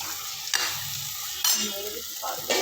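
A dal tempering sizzles steadily in a pan as it is stirred, with brief louder scrapes and bursts of spatter recurring every second or so, close and alone.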